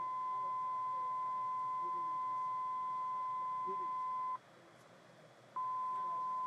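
A steady electronic test tone from a Garmin G1000 cockpit audio check sounds alone at moderate level. It cuts out for about a second and then resumes.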